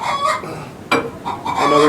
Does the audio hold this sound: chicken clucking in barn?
yes